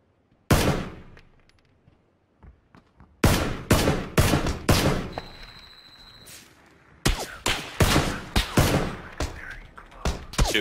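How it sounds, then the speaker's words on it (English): A Tommy gun fires in PlayerUnknown's Battlegrounds, heard as loud bursts of rapid automatic shots separated by short pauses. "This is really hard with the Tommy gun."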